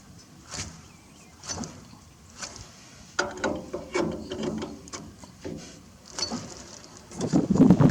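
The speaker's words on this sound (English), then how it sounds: "I'll tighten the nut till I feel some resistance" Close-up ratcheting and metallic clicking as a nut is tightened onto a bearing, in irregular bursts that grow louder toward the end.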